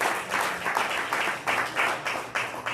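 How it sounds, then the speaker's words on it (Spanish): A church congregation applauds together, a dense, sustained wash of clapping that pulses in waves throughout, with no voices over it. "Denle un aplauso a Dios."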